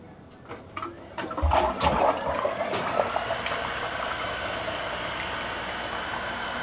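An ice cream machine holding about 11.5 quarts of milk starts up, a few clunks and splashes giving way to a steady, loud whirring hum that carries on evenly to the end.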